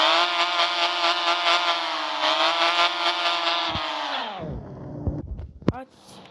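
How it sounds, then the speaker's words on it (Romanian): Car engine revving in the Car Parking video game, a loud, steady high-pitched engine drone held for several seconds before it cuts off, followed by a few short clunks and a sharp click. "Ia auziți cum sună motorul"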